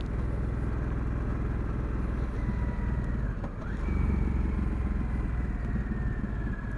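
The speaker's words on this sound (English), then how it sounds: "you can hear it picks up my engine pretty well" A motorcycle engine runs steadily at close range, picked up by a budget helmet-mounted motovlog mic, its low rumble rising briefly midway as the revs climb, with no talking.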